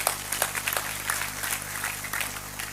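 Moderate applause from a small audience at an Indonesian religious talk, steady clapping with no voices, sounding slightly distant.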